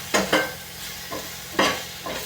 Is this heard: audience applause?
no